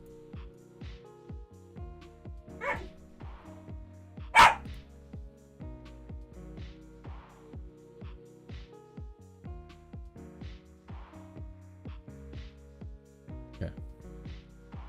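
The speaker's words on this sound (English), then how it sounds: "Why are my dogs playing?" Dogs playing and barking indoors, with scattered short barks and yips over a quiet musical background, one sharp loud bark standing out near the middle.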